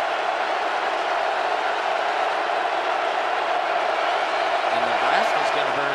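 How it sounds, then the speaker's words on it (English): Football stadium crowd at a college game between San Jose State and Nebraska in 2008, a loud, steady roar of cheering that holds throughout, with a voice talking over it near the end. "The crowd is loud."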